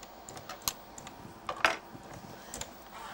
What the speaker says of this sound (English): Go on, type me something in.